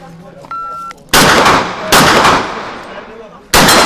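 Loud gunshots ring out at a shooting course, three separate sharp blasts spaced a second or more apart, with brief talk and a short beep before the first shot.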